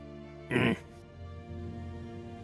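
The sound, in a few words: voice imitating sniffing sounds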